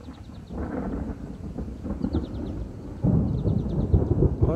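Thunder from negative lightning strikes during a summer thunderstorm crackles and rumbles in uneven bursts, growing louder toward the end, over a soft bed of rain.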